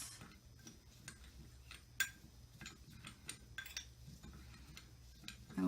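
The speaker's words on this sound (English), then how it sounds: "Alright, I'm going to stir it now." Mixed colour being stirred in a small container, heard as faint close tapping and light scraping clicks spread irregularly throughout, with no voices.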